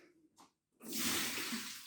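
Cold tap water runs over rice held in a sieve, a steady broadband rush starting after a short quiet gap and continuing close and loud to the end.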